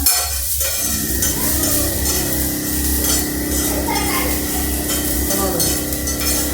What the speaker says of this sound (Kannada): ಚೆಂದಾಗಿ ಫ್ರೈ ಮಾಡ್ಕೋಬೇಕು ಎಲ್ಲ ಕಡೆ ಉಳ್ಳಾಗಡ್ಡಿ ಫ್ರೈ ಮಾಡಿ